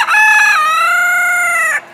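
A rooster at a chicken auction crows once, loud and close: a single drawn-out cock-a-doodle-doo lasting nearly two seconds before it cuts off.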